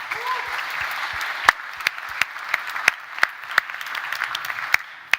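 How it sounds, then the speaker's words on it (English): An audience at an innovation event's opening ceremony applauds steadily, a dense wash of clapping with a few louder, sharper claps standing out near the front. "I think this deserves an applause for you, for everyone here."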